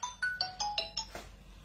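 A mobile phone plays an incoming-call ringtone: a quick run of about six bright electronic notes, stepping in pitch, close and clear, with no one speaking.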